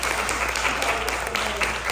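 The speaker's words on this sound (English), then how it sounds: "Y'all clap for her." An audience claps for a volunteer at a Self Love Tour motivational talk, a dense, even wash of applause from a large room, fairly distant and sustained for the whole stretch.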